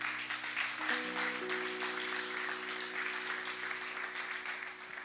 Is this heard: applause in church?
yes